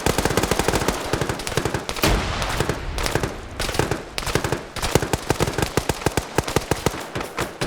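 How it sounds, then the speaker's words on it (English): Heavy automatic gunfire fills an Arma 3 PvP firefight, with rapid sustained bursts and overlapping shots that keep going almost without a break, loud and dense throughout. "Brother Erectus trying to fire at anything he sees."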